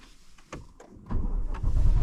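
Chevrolet Corvette C8 starting up, a few mechanical clicks followed by a rising low rumble as the engine catches, close and building in the final second.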